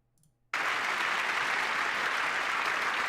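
Applause fills a joint session of Congress, a dense, sustained wash of clapping from a large chamber crowd that starts abruptly after a brief quiet moment and stays loud and steady.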